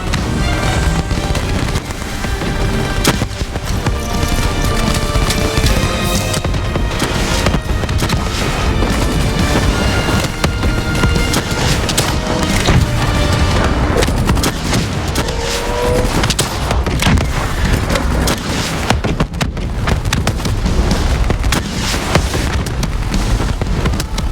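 Sustained loud gunfire from Call of Duty Black Ops III as a squad focuses fire on a Manticore, dense overlapping automatic bursts and blasts filling the whole stretch with battle noise.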